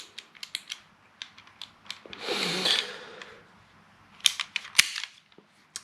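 A Novritsch SSP2 airsoft pistol with a compensator is handled and fired: a run of small mechanical clicks, a brief hissing burst, then a few sharp, close snaps with quiet gaps between them.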